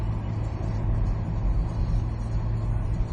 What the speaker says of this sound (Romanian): Apăsăm accelerația puternic.